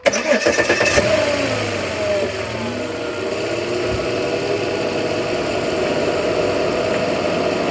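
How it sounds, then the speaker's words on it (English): A 2011 Volvo XC90 engine with a bad ignition coil cranks and catches with a loud burst, then settles into a steady, somewhat rough idle that continues to the end. "Start the car."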